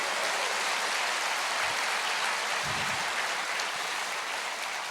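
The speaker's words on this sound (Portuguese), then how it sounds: "Você pode dar um glória a Deus, um salva de palmas para o Senhor Jesus?" A church congregation applauds during a Portuguese-language sermon, a steady, dense wash of clapping that holds evenly for several seconds with no speech over it.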